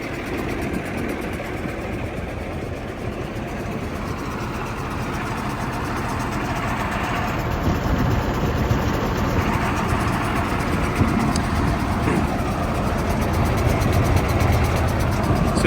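An Atkinson truck with a Gardner 6LX diesel runs at a steady idle, a low, even rumble with fine rhythmic chatter that stays close and grows slightly louder toward the end, with no talk over it.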